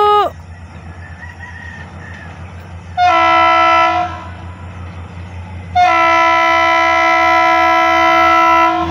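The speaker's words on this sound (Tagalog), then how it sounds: "ayan na yung train" A train sounds its horn close by in long, loud, steady blasts, a shorter one and then a longer one, over a low rumble from the rails.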